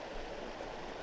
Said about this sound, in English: This is a small creek